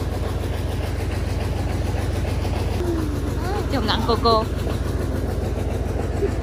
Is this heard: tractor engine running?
yes